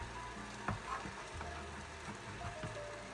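Bacon (špek) sizzles in hot oil for sataraš, a close, steady crackling hiss with small pops and a few stirring clicks, no voices.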